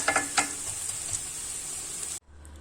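Eggs frying with potatoes in a pan, a bright continuous sizzle with a few stirring scrapes at the start, cutting off abruptly near the end to near silence.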